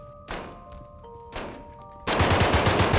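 Pistol gunfire in Garry's Mod: two single sharp shots spaced about a second apart over a faint electronic hum, then a sudden loud, dense burst of rapid firing that carries on to the end.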